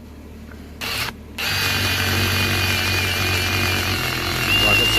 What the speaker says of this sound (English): We're going to drill that down.